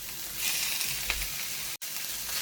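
Chopped squid and tentacles sautéing in a pan with onion and tomato for Goan recheado squid, a steady loud sizzle with a brief stir and a momentary cut near the end.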